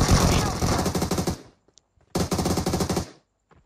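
Teammates fire automatic weapons in the PUBG video game: two rapid bursts of machine-gun fire, loud and close, separated by a brief silence.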